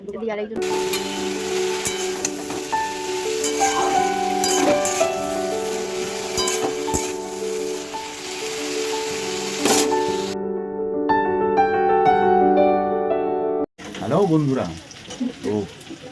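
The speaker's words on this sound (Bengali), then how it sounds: "এখন এখানে হচ্ছে সোয়াবিন রান্না হচ্ছে" Soybeans frying in a pan, with a steady close sizzle running throughout and tonal background music layered over it, pausing briefly near the end.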